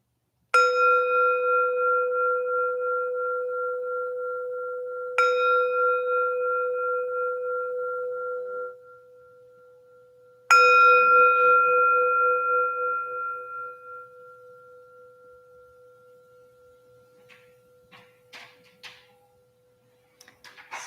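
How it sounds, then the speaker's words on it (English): A meditation bell is struck three times, about five seconds apart, to open a sitting; each strike rings out clear and sustained with a long, slowly fading tone in an otherwise quiet room. "I'd like to start with a bell"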